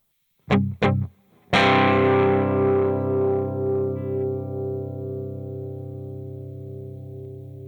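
An electric guitar through an analog overdrive pedal plays two short muted stabs, then a loud distorted chord that rings out and slowly fades.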